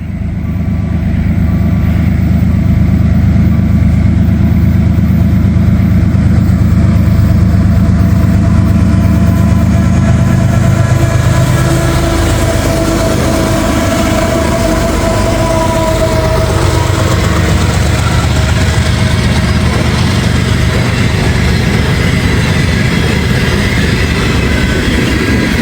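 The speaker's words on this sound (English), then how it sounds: "Right now, we got a train coming. It looks like a CSX mixed manifest." A CSX mixed manifest freight train rolls past close by, its loud engine rumble dominating at first, then giving way to a long steady roar of passing railcars with faint rail clatter.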